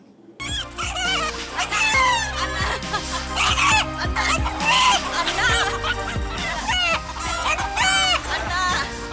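A rooster in Sangli, known for a call that sounds like a spoken word, clucks and crows loudly and close up in a continuous stream of calls, with faint background noise.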